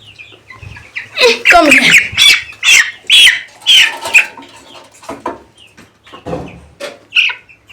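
Two-week-old poultry chicks squawk and chirp loudly and close while being weighed, a run of sharp repeated calls with brief pauses, and a person speaks briefly.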